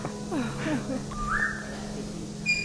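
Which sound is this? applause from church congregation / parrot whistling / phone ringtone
parrot whistling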